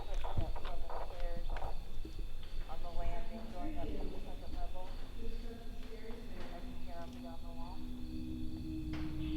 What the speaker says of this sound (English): We've got a lot of footsteps just above us.